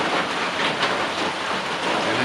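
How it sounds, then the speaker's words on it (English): Steady rain drums on a backpacking shelter during a wet hike, a dense, even hiss of drops that carries on without a break, with no voices heard. "And enjoy the sound of the rain."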